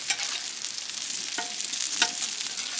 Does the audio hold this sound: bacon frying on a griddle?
yes